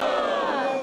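A crowd in an airport arrivals hall shouts hurrah for a returning record-setting round-the-world aviator, a loud, sustained chorus of raised voices carrying one long cheer.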